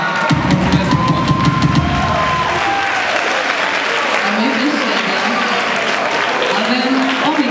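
Audience at a school freshman ball applauding the children, sustained loud clapping and some cheering, with a voice speaking over it early and again briefly later.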